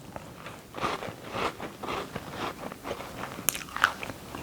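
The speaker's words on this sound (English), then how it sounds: "Hear the crunch" Crunchy bites into a plain sugar-topped shortbread cookie, several crisp close-up crunches and chewing sounds in an irregular rhythm, with no talking.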